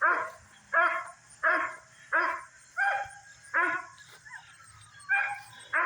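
A rescue dog barks near the back of a house in a steady series of about eight loud, evenly spaced barks, each with a whiny tonal edge, over a faint low hum.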